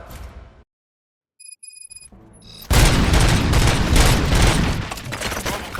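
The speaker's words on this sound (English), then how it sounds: "Gunshots? What's going on?" Gunfire in the video game RoboCop: Rogue City, a loud sustained burst of overlapping shots that erupts after a near-silent gap with faint electronic beeps and continues densely to the end.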